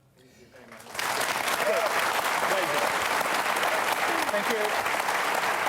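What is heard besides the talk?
audience applause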